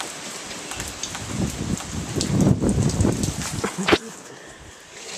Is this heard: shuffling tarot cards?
no